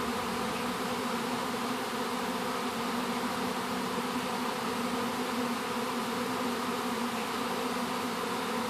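Hundreds of honeybees swarming from a large neighbouring hive over to a bait hive, a steady dense hum at close range, even in level throughout with no talk.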